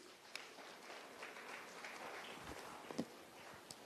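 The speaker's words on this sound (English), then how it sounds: "Ladies and gentlemen, a round of applause for sir" Applause from a business summit audience, a soft, steady wash of many hands clapping that sounds somewhat distant and quiet, with a few sharper individual claps standing out.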